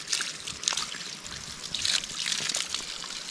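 Water runs steadily from a tap in a rural farm setting, a continuous close trickle and splash with small irregular surges and no pauses.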